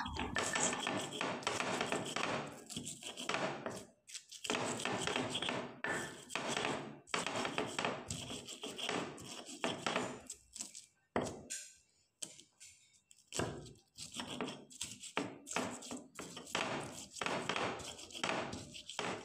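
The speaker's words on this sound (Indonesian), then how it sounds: "di sini saya nguleknya itu nggak terlalu halus, masih ada kasar-kasarnya gitu ya" Chilies, shallots, salt and MSG pounded in a stone mortar with a pestle for simple fried rice, giving a steady run of close, dull knocking and grinding strokes with brief pauses, loud throughout and with no talking.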